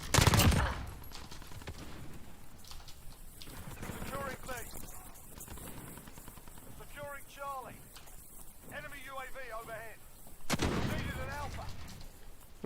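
Desert Eagle pistol shots in a video game, a few sharp bursts near the start and again later, heard among game sound effects and a talking player.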